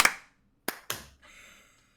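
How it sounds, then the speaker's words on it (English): A small podcast group claps on a countdown, producing a few sharp separate claps that are not quite in sync: one at the start, then two close together, followed by a faint hiss. "everyone claps"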